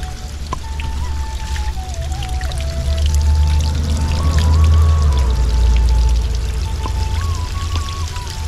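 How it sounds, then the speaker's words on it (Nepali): Water from a mountain spring in a forest pours and splashes steadily close by, a continuous gurgling flow with faint tonal ringing over it and no voices. "यहाँ यतापट्टि मूलको पानीको आवाज हजुरहरूले सुनिराख्नु भएको छ होला।"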